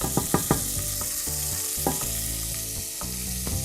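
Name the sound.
meat frying in a pot, stirred with a wooden spoon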